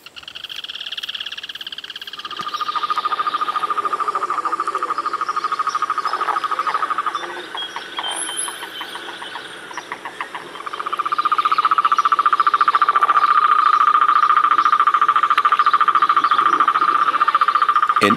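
Common toads in water-filled puddles call during courtship in the Espinal wetlands of Santa Fe, Argentina, a loud, steady chorus of sustained trilling that briefly thins midway before swelling again, with no voices present.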